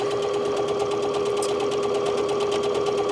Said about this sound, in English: you're gonna sew right at the edge of your fold